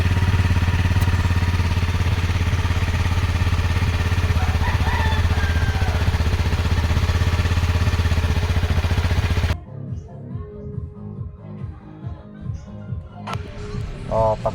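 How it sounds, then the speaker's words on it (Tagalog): A Honda CRF motorcycle engine runs just after an oil change, a loud, steady, close idle that lasts about nine seconds and then cuts off, leaving scattered clicks and clatter. "Three to 5 minutes start natin ang motor para ma-circulate ang bagong oil sa loob ng engine."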